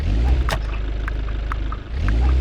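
Car engine from a video game about a motorized brigade, a low rumbling drone with a steady pulsing throb and a brief dip before it swells again, with a few faint clicks on top.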